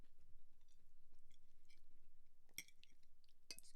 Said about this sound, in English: Excuse me if you can't stand the sounds. I'm not a big fan of listen to people chew either.